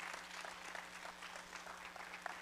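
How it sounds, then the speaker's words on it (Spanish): Church congregation applauding together, a steady dense wash of many hands clapping at moderate volume, with a faint low hum underneath and no voices over it. "And give the round of applause to God."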